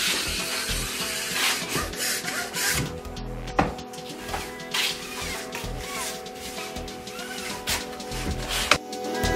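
An alpine ski's base edge is filed with an edge-tuning guide using light pressure, making repeated close rasping strokes in a fairly steady rhythm, loud and with no speech.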